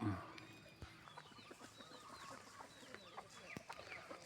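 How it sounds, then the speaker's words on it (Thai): Chickens clucking softly at a moderate distance, scattered short clucks and chirps in an uneven rhythm over a quiet farmyard background. "กุ๊กกุ๊กกุ๊กไก่กุ๊กกุ๊กกุ๊กไก่"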